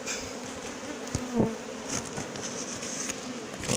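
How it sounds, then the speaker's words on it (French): A honeybee swarm being gathered from a hedge into a cardboard box with smoke in Villabé, France: a steady, close insect buzz hums continuously throughout, with a few soft knocks and rustles over it. "Je récupère des abeilles, mais c'est des abeilles"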